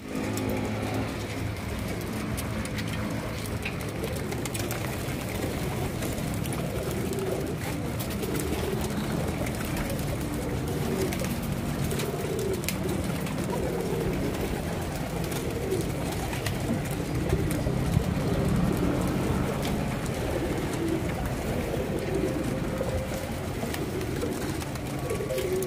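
Pigeons coo steadily and continuously while being fed, a dense chorus of soft, throaty calls layered with rustling and a constant background hum throughout.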